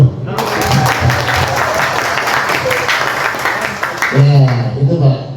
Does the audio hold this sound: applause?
yes